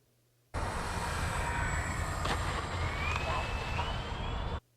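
FMS Tigercat 1700mm RC scale plane flying under strong power, a sudden loud steady electric motor and propeller drone that holds evenly for about four seconds, then cuts off abruptly.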